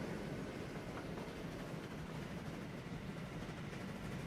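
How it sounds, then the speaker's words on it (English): A train runs on new tracks in Transport Fever 2, producing a faint, continuous rumble with a low rolling clatter that holds steady throughout. "He gets to not only try out this brand new train on these brand new unridden tracks."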